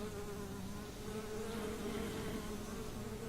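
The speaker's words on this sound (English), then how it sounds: "Wasn't sure if I just heard some bees." Bees from the Growthcraft Bees mod in Minecraft give off a steady, faint, droning buzz that holds level for a few seconds with no talking.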